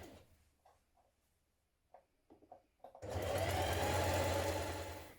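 A sewing machine stitches a ruffle onto a dress, starting after a few quiet clicks and handling noises and then running in a loud, even, continuous whirr of rapid stitching until the end.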